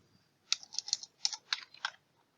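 A short run of clicky keystrokes on a computer keyboard, about eight quick taps in an uneven rhythm, close and fairly quiet, with silence before and after and no voices.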